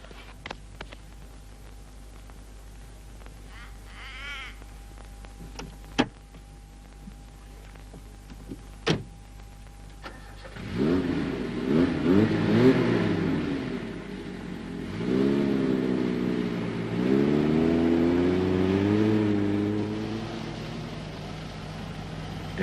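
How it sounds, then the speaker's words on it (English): A 4WD car with under-inflated tyres starts up and revs hard while driving out of soft sand in the Australian outback, the engine note rising and falling in loud, surging waves after a few quiet clicks and knocks. "just get in the car and just drive the damn thing out."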